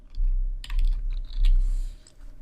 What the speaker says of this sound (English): So I'm just going to put a space there and type in date